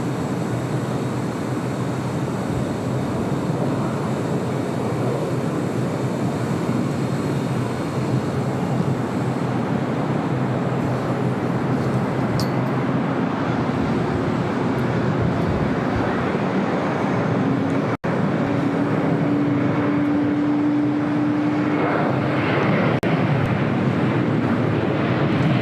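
A Delta airliner takes off from runway 24 Right at LAX, a steady broad jet roar that holds loud and even throughout, with a brief tonal whine rising partway through and wind buffeting the microphone.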